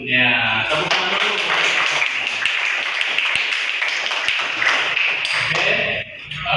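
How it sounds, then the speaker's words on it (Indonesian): A classroom group claps hands together in a dense, continuous round of applause lasting several seconds, bright and close, then it stops abruptly near the end. "Tepuk tangan dulu."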